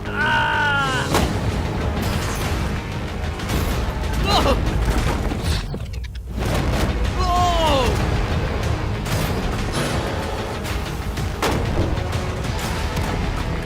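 Gunshots fired at a shipping container during an outdoor challenge event, sounding as repeated booming reports over continuous loud rumbling noise, with excited voices talking over them.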